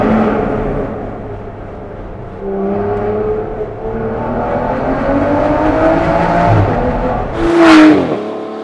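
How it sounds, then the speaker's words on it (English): An Aston Martin Vanquish Volante's V12 engine revs up through rising gears, loud and close, then climbs to a sharp peak and drops away near the end. "That V12 engine, it makes everything good again."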